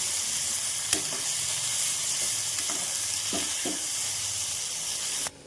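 Masala of tomatoes and cashews roasting in a pan gives a continuous, fairly quiet hiss and sizzle, broken by several light clicks of a stirring spoon, with no talking.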